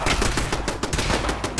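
Rapid automatic turret gunfire in the Fallout 4 video game, a dense loud stream of shots crackling continuously throughout with no talking.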